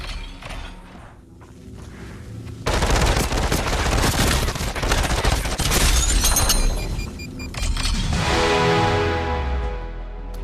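Dense, loud rapid gunfire erupts in a battle in the VR shooter Population: One, sustained bursts of automatic fire with booming impacts after a brief quieter lead-in, with no talk.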